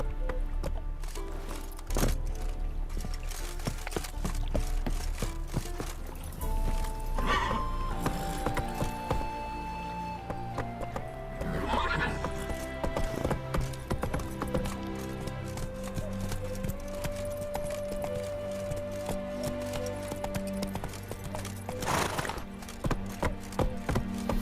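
Roach, the horse in The Witcher 3: Wild Hunt, gallops with rhythmic hoofbeats and occasional neighs, up close and layered over game music and ambient effects.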